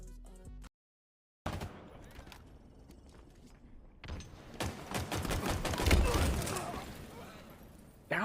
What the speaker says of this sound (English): That was an awesome grenade throw.